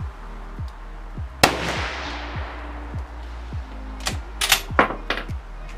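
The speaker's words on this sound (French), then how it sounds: "Donc à 50 mètres, et je tire plein centre." A Lee Enfield No. 4 rifle fires a single reduced-load round at a 50 m target, a sharp close report with a decaying tail, followed by a few fainter clicks and knocks.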